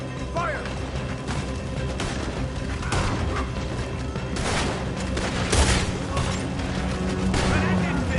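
Rapid gunfire and booming shots ring out during a shootout in Red Dead Redemption 2, forming a dense, continuous barrage with heavier impacts and shouting voices mixed in.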